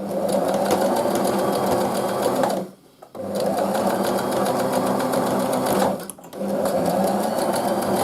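A sewing machine stitches fabric face masks in loud, close, steady runs of rapid needle chatter, stopping briefly twice before starting again.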